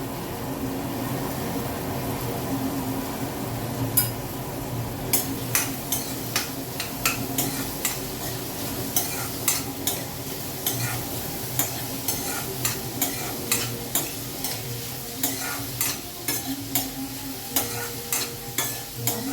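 Onions sizzle steadily in hot oil, with repeated scraping and clinking of a spoon stirring the pan at an irregular rhythm.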